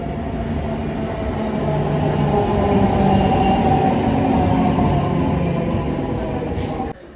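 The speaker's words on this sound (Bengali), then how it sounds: "আমার পেছনে যে ট্রেনটা আছে পুরুলিয়া হাওড়া মশাগ্রাম প্যাসেঞ্জার ট্রেন" A Purulia–Howrah Masagram passenger train idles nearby with a steady, loud low rumble and faint hum throughout, cutting off abruptly at the end.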